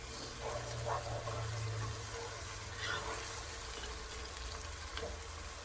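Three pounds of ground beef frying in a pan, a steady sizzle with soft crackles and occasional stirring scrapes, close and continuous at moderate level.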